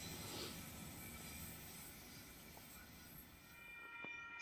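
Sydney V-set double-deck train passing through a station platform southbound, a continuous low rolling rumble with faint squeals near the end, moderately distant and steady.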